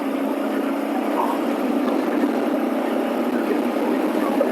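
Bajaj Pulsar NS 125 motorcycle on the move, a steady, loud, unbroken roar of engine and rushing wind that holds constant throughout with no voices.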